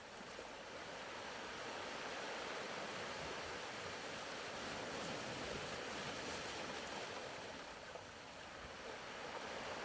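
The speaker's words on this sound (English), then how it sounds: "hear the sound of gentle waves breaking on the shore" Gentle ocean waves break on a shore in a steady, continuous wash of surf that stays even and moderately loud throughout, with no voices.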